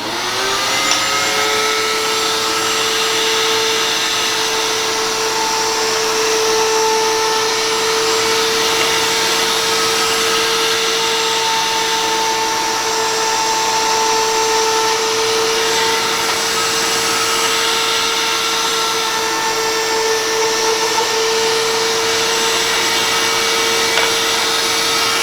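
A power tool whines steadily while cutting grooves into a marble tic-tac-toe board, a loud, continuous high-pitched motor tone holding for the whole stretch with no talking.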